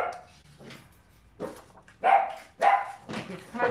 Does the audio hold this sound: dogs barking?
yes